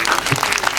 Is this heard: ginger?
no